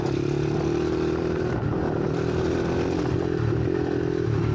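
A motorbike rides off-road at a steady, buzzing engine drone, close and loud, with rattling clatter over rough ground and no talk.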